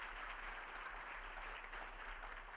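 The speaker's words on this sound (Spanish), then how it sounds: "agradecemos con fuertes aplausos a nuestro expositor invitado" Steady applause from an audience after a guest speaker's conference talk at a university event, continuous, even clapping filling the whole moment without voices.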